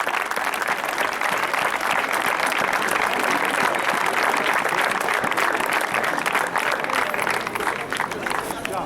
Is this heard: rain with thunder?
no